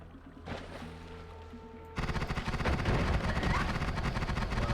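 Rapid enemy gunfire in the pixel-physics roguelike Noita bursts in loudly and keeps rattling densely for about three seconds, after a quieter stretch of softer game sounds.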